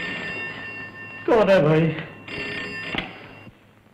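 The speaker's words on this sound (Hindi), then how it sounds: "टेलीफोन" An old-fashioned telephone rings in a Hindi film scene, with a loud bell-like burst in the middle and another shorter ring later, while someone speaks over it.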